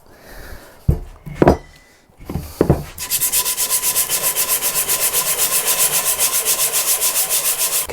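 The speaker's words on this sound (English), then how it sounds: "I'll get the sander out and give it a good proper sand" An electric sander grinds over an old knife blade, starting after a few clicks and knocks of handling, then running steadily and loudly with a fast pulsing hum.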